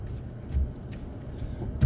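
A truck engine idles low and quietly while the truck backs up, a soft steady rumble with no talking.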